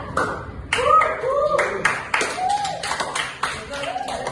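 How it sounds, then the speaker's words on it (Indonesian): Classroom clapping for three students: uneven bursts of hand claps in a room, mixed with children's voices and short cheers, close and lively. "David, tepuk tangan buat mereka bertiga"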